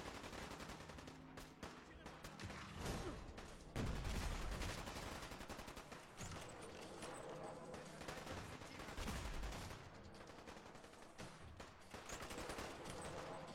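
Video game gunfire from Fallout, with rapid bursts of repeated shots and heavier booming blasts spread throughout, loud and continuous with little pause.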